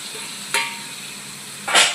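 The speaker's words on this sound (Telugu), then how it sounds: "వేసేసుకొని మళ్ళీ వచ్చి మంచిగా మిక్స్ చేసుకోవాలి" Boiled goru chikkudikaya, cluster beans, are stirred into a sizzling onion curry in a pan: a low steady frying hiss with two sharp scraping stir strokes, close and clear.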